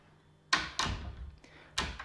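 A door in a living room under renovation, built so only half of it swings open, gives a sharp thunk followed by a clattering knock and two more knocks, close and fairly loud over a quiet room.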